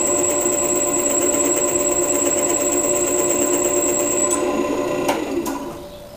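A drill press bores into a workpiece with a carbide bit while the quill is pressed down, giving a steady close mechanical whine with a constant pitch that falls off and fades over the last second.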